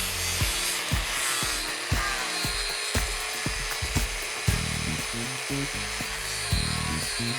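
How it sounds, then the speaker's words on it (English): A ceramic fibre disc on a power grinder takes a weld down flush with the parent metal of a workpiece clamped in a vise. It gives a loud, continuous abrasive grinding with a steady rhythmic pulsing throughout and no talk. "the ceramic fibre disc takes the weld away very efficiently"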